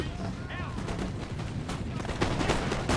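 Musket gunfire in a Total War Napoleon battle crackles in dense, ragged volleys, with someone talking over the continuous shooting.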